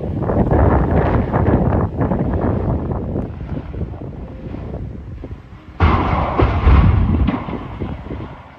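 Strong wind gusts roar across the microphone, a steady rushing blast that surges suddenly louder partway through, with no voices.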